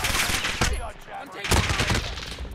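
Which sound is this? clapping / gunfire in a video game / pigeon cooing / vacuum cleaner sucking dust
gunfire in a video game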